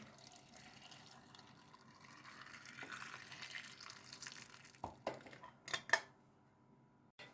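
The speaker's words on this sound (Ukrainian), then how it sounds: "наливаю кип'яток" Boiling water is poured from a pot into glass jars packed with grapes for pickling, a soft steady splashing stream that ends in a few sharp clinks of glass.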